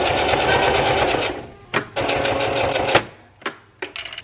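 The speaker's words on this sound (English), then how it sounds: "so I'm back at the sewing machine" A home sewing machine runs in steady bursts of rapid stitching, stopping and starting several times with short pauses between, close and clear.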